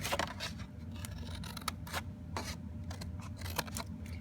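Scissors cut through scored paper card for a note-card box, giving a run of close, crisp snips and slicing strokes with a soft rubbing underneath.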